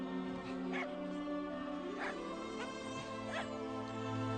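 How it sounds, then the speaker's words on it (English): A dog in a fantasy role-playing video game gives a few short yips and whimpers, spaced about a second apart over a steady low game soundtrack. "Oh, there's a dog. Can I pet him?"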